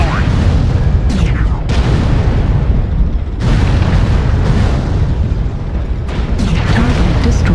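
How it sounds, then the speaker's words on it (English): Repeated heavy artillery blasts and rumbling booms from the MechWarrior Online video game, loud and dense, with bursts landing around 0, 1.7, 3.4 and 6 seconds over a constant battle din. "Enemy is targeting us with satellites and artillery"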